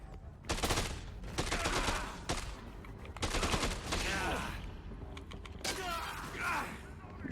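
Enemies fire guns in the video game Dead Rising 2, with several bursts of rapid shots cracking out over about seven seconds, mixed with mechanical creaks and clatter between volleys.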